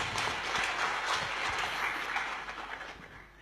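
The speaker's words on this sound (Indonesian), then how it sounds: "Kita beri tepuk tangan saudaraku." A church congregation applauds during an Indonesian service, the clapping blending into a continuous wash of sound that stays fairly soft and distant for a few seconds.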